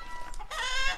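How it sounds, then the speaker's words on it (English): Chickens cluck close by, a few short clucks followed by a louder, drawn-out squawking call near the end, with no talking. "Hey, all right, we got chickens."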